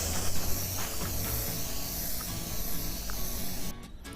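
A steady, close hiss of spray paint misting blue-black paint onto an abandoned table top, continuous for about four seconds and ending with a brief sputter.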